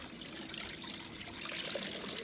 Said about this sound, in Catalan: Espera que es tregui una mica l'aigua.